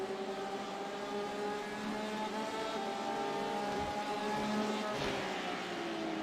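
A race car engine in the iRacing sim during a 24-hour race at Watkins Glen, holding a steady droning whine with gentle pitch shifts, moderately loud and continuous.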